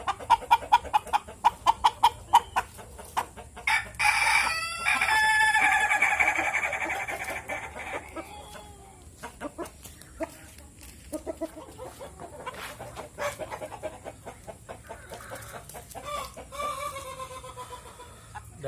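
Chickens cluck in quick, sharp bursts at close range, and a rooster crows once partway through. The birds are wet and set out to dry in the sun, with soft scattered clucking continuing afterward.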